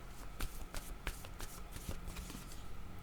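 A deck of cards is shuffled by hand during a card reading, giving a crisp, dense riffling flutter punctuated by sharper slaps, steady and close for about three seconds with no talking.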